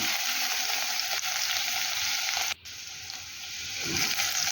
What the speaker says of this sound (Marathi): आता हे छान असे आपण फ्राय करून घेऊया